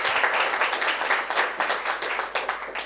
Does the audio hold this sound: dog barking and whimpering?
no